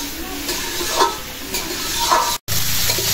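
Prawns fry in a pan with a steady hiss and sizzle, with occasional stirring scrapes and a brief cut to silence near the end.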